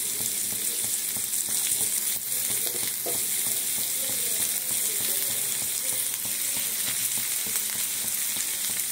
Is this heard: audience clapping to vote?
no